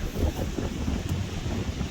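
Wind buffets the microphone in a low, steady rumble with gusty fluctuations in an evergreen forest in the Great Smoky Mountains, no voices present.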